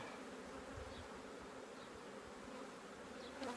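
Honey bees buzzing steadily at an opened queen-rearing hive, a continuous low insect drone that holds close and moderately loud for the whole stretch with no talking.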